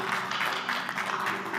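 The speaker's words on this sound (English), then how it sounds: "feel free to clap" Audience applause at a startup pitch night awards ceremony, a steady wash of clapping hands from a room of people, sustained and fairly loud for its short length.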